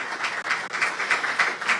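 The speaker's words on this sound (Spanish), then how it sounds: "Vamos cerrando este acto con un fuerte aplauso a estas dos grandes mujeres que este día nos han hablado." A crowd at a Spanish Language Day ceremony gives a strong round of applause to close the event, dense rapid clapping that stays loud and even throughout.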